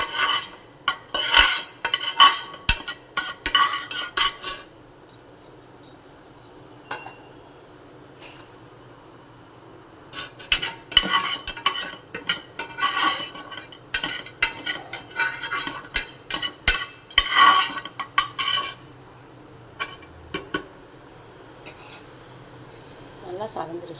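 Chana dal being sautéed and stirred in a pan for millet upma, with bursts of scraping, clattering spoon strokes against the metal separated by quieter gaps of low sizzle, close up.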